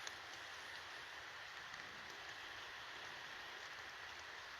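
Steady rain patters through the branches of an old-growth pine, a soft, continuous hiss with faint scattered drops and no voices.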